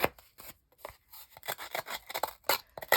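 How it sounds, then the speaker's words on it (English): Rapid scissor snips cutting through cardboard, a quick irregular series of crisp close-up cuts. "So I'm just using my scissors. I think this works pretty well."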